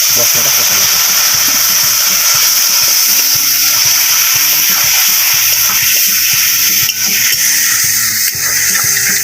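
Water is poured into spices frying in a pan for a four-lentil khichuri, giving a steady, close hiss and sizzle that runs unbroken through the whole stretch.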